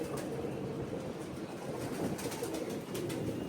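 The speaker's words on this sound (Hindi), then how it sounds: "ये इंतहाई दिल के करीब कबूतर हैं चेयरमैन साहब के" Pet pigeons murmur and coo in a loft, with a soft, continuous, low burbling and no voices over it.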